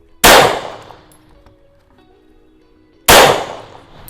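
Two sharp, loud Glock pistol shots about three seconds apart, each a sudden blast with a ringing decay, with no talking.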